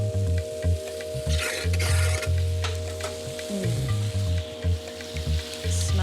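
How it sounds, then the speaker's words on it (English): Wine deglazes a hot pan while braciole is being made, with a close, steady sizzle and hiss under scraping stirring strokes and a low background hum. "the wine is basically deglazed the pan"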